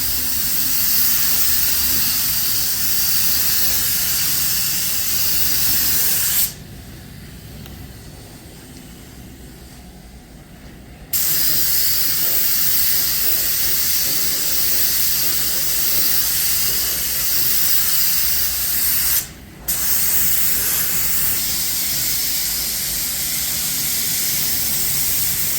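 Spray gun laying a three-quarter lacquer coat on a BMW Z3 2.2 roadster in a paint booth, a loud continuous hiss broken by two pauses, one several seconds long and one brief, with no talking.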